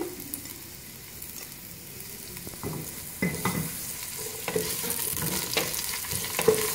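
Two large, finely chopped onions fry lightly in hot oil, giving a steady sizzle that grows denser and louder over several seconds, with occasional stirring scrapes and no talk.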